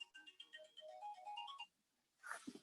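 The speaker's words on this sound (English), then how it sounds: "I forgot to turn off my phone." A mobile phone ringtone goes off during a statistics lecture, a bright repeating electronic melody of quick notes lasting about a second and a half, followed by a brief rustle as it is silenced.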